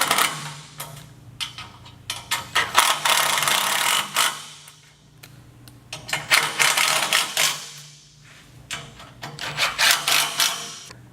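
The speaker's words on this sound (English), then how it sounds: "you're going to use your Allen head, which is a 3/16, and you're going to go ahead and just snug them up" An Allen key, 3/16 inch, tightens bolts on a Ryder rack, giving bursts of rapid ratcheting clicks in close, repeated runs separated by short pauses.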